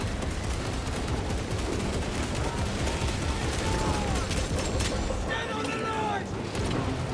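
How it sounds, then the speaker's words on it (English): Dense, continuous gunfire aimed at gargoyles in Warhammer 40k: Space Marines 2, a loud, rapid barrage of shots and mechanical clatter with a voice talking over it. "we shoot them"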